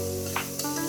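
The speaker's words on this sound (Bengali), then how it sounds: "ভালোভাবে নাড়া হয়ে গেলে আমি এতে দিয়ে দিব ক্রাম্বল করা ডিমটা" Crumbled egg hits a hot pan for sausage fried rice, giving a brief, close sizzle with a quick stirring scrape.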